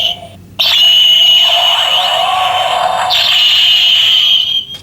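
A Power Rangers Legendary Morpher toy plays its electronic sound effect: a loud, shrill synthesized siren-like tone with sweeping pitch that starts abruptly and holds for about four seconds before stopping.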